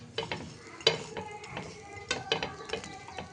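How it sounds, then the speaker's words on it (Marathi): Vegetable sandwich browning in a pan, a soft steady sizzle broken by a few sharp scraping clicks from a spatula, close and moderately quiet with no talking. "आता हे तर एक साईडला भाजायचं, मग याला फ्राय करून घ्यायचं."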